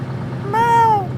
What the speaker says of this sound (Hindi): बीच सड़क पर बिल्ली।